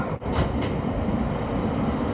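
A New York subway E local train on the 6th Avenue line rumbles loudly and steadily from inside the car, with a dense, continuous roar of wheels and motors and a brief dip near the start.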